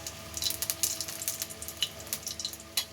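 Whole cumin, bay leaf and dried chillies crackle and sizzle in hot oil in a wok, with a dense run of sharp, close spatters that bunch in bursts.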